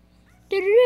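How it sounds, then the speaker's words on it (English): A dog lets out a single short, tonal whimpering yelp, close and loud after a near-silent moment. "that dog can be an instrument"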